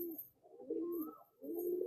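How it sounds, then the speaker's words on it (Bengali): Delhi pigeons in a loft give low, rolling coos in two close bursts separated by a short pause, fairly quiet and with no voices over them. "মানে দিল্লির পায়রা আর কি।"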